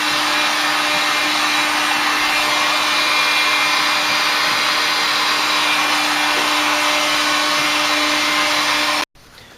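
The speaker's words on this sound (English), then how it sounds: "I'll just go over it with this again, the heat gun." A heat gun blowing on a Ford Cortina Mk3 panel during a classic car restoration: a loud, steady, close whooshing hum with a faint tonal whine, cutting off abruptly near the end.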